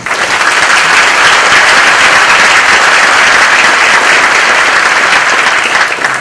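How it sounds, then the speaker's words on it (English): A large audience claps steadily and loudly, a dense wash of applause sustained throughout with no one speaking. "join me, please, in a round of applause for the great efforts of this team"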